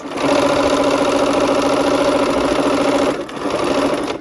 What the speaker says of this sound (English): we're going to assembly line sew this